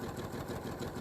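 A sewing machine runs steadily while feeding fabric during a panel sewing job, giving a continuous even mechanical whir with no pauses, close and moderately loud.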